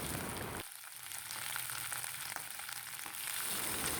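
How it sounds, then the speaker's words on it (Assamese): Okra (ladies' fingers) frying in mustard oil in a hot wok makes a dense, loud, hissing sizzle that swells as the pieces hit the oil and carries on steadily. "ভেন্দিটো আগতে ভাজি ল'ম"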